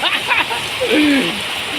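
Steady rain falls with a continuous wash of patter and splashing, close and moderately loud, with faint tonal sounds briefly over it.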